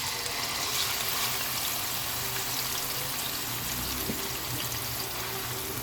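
Marinated minced meat dropped into hot oil in a wok gives a loud, steady, close sizzle and hiss that holds evenly throughout with no voices over it.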